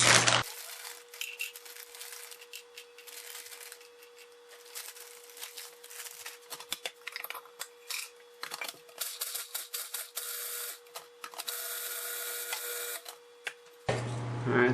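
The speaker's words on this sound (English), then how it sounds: "I'm going to actually use a food processor to get them more finely ground." A food processor chops walnut halves and pieces into finer bits, with a close, steady motor whir and a gritty rattle that runs for about thirteen seconds before it stops.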